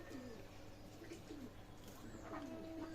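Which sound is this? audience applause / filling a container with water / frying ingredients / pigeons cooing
pigeons cooing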